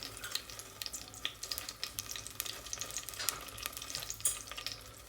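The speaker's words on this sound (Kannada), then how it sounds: "ತುಪ್ಪ 1 ಸ್ಪೂನನ್ನು ಹಾಕ್ಕೊಳ್ತಾ ಇದ್ದೀನಿ." Oil and ghee heating in a pan for mushroom biryani: a soft, continuous crackling sizzle with scattered small pops, steady and fairly faint, with no talk.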